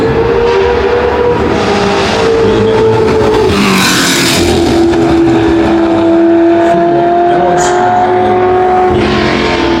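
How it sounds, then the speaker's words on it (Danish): A 1982 March 822 Formula 2 race car with a 2-litre BMW engine roars loudly and steadily at a classic car race. Its engine pitch shifts partway through with no talk heard over it. "Formel 2 racer, det er en March 822 med en BMW motor, en 2 liters sag"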